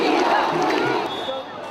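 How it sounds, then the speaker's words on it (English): Dense crowd of devotees shouting together during the Traslacion procession of the Black Nazarene, a loud, continuous roar of many voices with rising yells throughout. "All of them were shouting."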